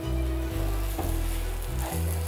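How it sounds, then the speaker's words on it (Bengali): Fenugreek leaves frying in oil in a pan, giving a loud, close, continuous sizzle with a steady hiss, under a low electrical hum, and no talking. "তার সাথে একটু শাকটা ভাজা ভাজা হয়ে গেলে"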